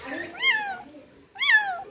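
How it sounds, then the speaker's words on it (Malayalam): An unhealthy cat gives two clear, close meows about a second apart, the second slightly shorter, with a soft murmur before the first. "ചാടി പൂച്ച കേറി വരുന്നു."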